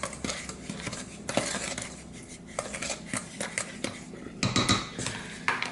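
A utensil stirs and scrapes bath bomb powder around a bowl, producing irregular clinks and gritty scraping strokes in bursts, fairly close, with no talking.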